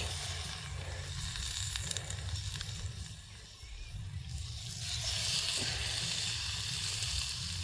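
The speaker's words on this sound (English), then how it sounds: "Oh good, sizzle, sizzle, that's what we like." Steady broadband sizzling from a hot frying pan on a mini tent stove, continuous throughout and growing a bit louder and brighter partway through, with a low rumble underneath.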